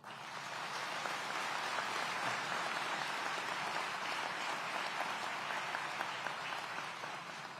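Sustained audience applause after the fire chief's speech at an Aurora city public safety event, a dense, even wash of clapping heard from some distance, lasting several seconds before tapering slightly.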